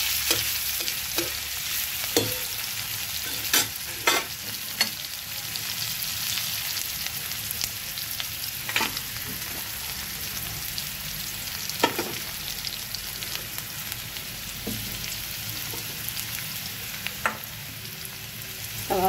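Onions frying in a pan for a lentil dish, a steady close sizzle broken by repeated sharp clacks and scrapes of a spatula stirring at irregular intervals, without any talking.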